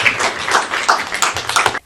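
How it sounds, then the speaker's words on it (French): An audience applauds at an intercultural twinning event, a dense burst of clapping lasting under two seconds that cuts off abruptly. "J'aimerais que nous puissions applaudir nos amis"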